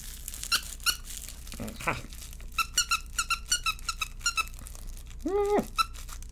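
Squeaky dog toys, a rubber duck and a squeaky burger, squeeze out a quick run of sharp, high squeaks in short rhythmic bursts, capped by one longer wavering squeal, close up and loud.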